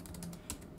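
Quiet, rapid keystrokes on an HP Chromebook 11 G2 laptop keyboard, soft and somewhat spongy rather than clicky, tapping in quick succession close to the microphone.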